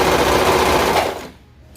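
A serger stitching the front seam of ruffle shorts runs in a loud, rapid, steady mechanical rattle up close, then stops abruptly, leaving quiet.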